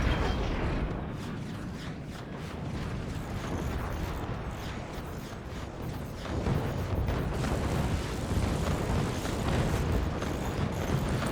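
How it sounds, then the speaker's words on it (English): Cannon fire and explosions in the physics-based fort battle game Forts, a dense, chaotic stream of booms, impacts and crackling debris, with a fresh surge of blasts partway through, heard fairly faintly. "I'm going to shoot the lower opponent now"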